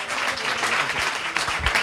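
An audience at a science talk evening in a bar claps in a brief burst of steady, fairly loud applause filling the room.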